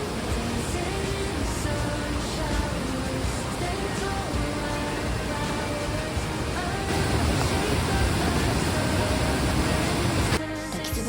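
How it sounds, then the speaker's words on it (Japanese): Mitsuji Falls in Nishizawa Gorge, a powerful waterfall roaring as a loud, continuous wash of water noise close to the pool, heard alone for several seconds. "三重の滝に到着しました。"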